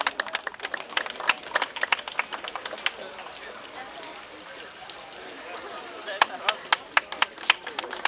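Applause from an audience at a festive street procession, a burst of scattered claps that fades out in the middle and returns as a few sharp claps near the end.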